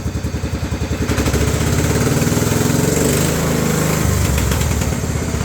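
A Cub Cadet 2135 riding mower's small engine idles steadily up close after 38 years of sitting, its rapid chugging pulse loud and continuous, rising slightly in pitch partway through.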